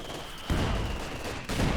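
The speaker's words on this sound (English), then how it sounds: "This gun firing a barrage there." Artillery gun firing a barrage in the video game Company of Heroes 2, two heavy thumping shots about a second apart, each with a broad rumbling tail, heard at a moderate distance over steady battlefield ambience.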